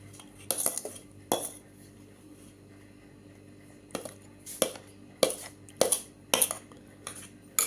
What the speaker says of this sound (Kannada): ಈಗ ಮಿಕ್ಸ್ ಮಾಡೋಣ.